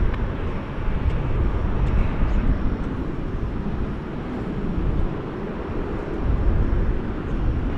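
An American Airlines Boeing 737-800 jet at DFW Airport produces a steady, loud, broad engine roar that holds without a break throughout.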